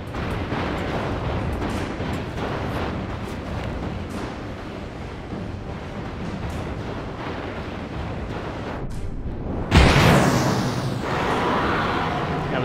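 Rumbling explosion blasts from the 2008 video game Alone in the Dark, a steady roar of fire and debris capped by one sharp, louder boom near the end, with no talking.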